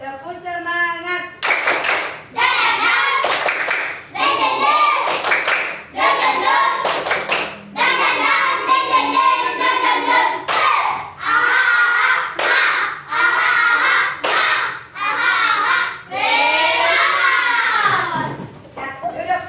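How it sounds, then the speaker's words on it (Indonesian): A group of children perform a rhythmic spirit clap, chanting loudly in unison between sharp patterned bursts of clapping, repeating the routine in quick sections with brief pauses. "Ulang ya. Tepuk semangat."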